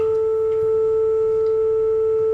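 A steady 441 hertz sine test tone plays alone, clear and unwavering for a couple of seconds, with a faint hum beneath it.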